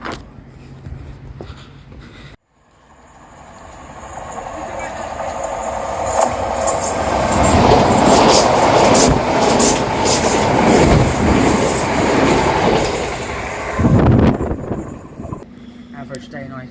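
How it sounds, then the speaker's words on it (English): A train rushes through Ifield railway station in Crawley, England, swelling from quiet into a loud, close roar with clattering wheels that holds for several seconds before easing off, with voices heard early on. "but there's a train."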